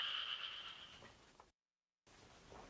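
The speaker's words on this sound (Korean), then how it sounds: "지금이 한겨울인데 옥문지에서 개구리들이 울어대니 어찌된 영문인지 모르겠사옵니다" Frogs croak in a winter pond in a dramatized scene from a Silla-era historical story, a dense chorus of rapid overlapping calls that runs steadily, drops out briefly, then resumes.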